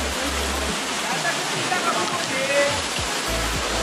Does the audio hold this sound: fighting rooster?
no